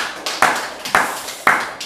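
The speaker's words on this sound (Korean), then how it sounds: "하나님께 박수로 영광 돌리겠습니다." A church congregation claps in unison, with three or four sharp, reverberant claps spaced about half a second apart that ring briefly in the hall.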